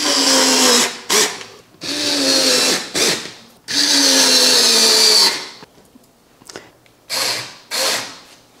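Power drill driving screws into the brackets of a FEZIBO standing desk, a 63 x 24 inch tabletop, in loud whirring bursts of about a second each with brief pauses, the later ones shorter and fainter.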